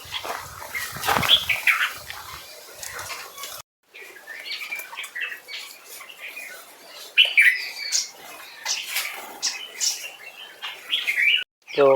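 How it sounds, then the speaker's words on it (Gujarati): Birds chirping and squawking in a forest while being fed, busy overlapping calls near and far with a short pause, and what sounds like a dog barking among them. "તમને કાંઈ બીજો અવાજ સંભળાય જ નહીં પક્ષી સિવાય।"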